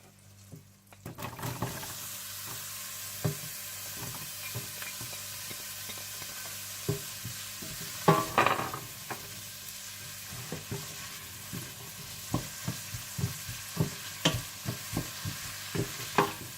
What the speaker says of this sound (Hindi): जब मक्खन मेल्ट हो जाए तो इसमें प्याज और लहसुन डालकर थोड़ा सौते कर लीजिएगा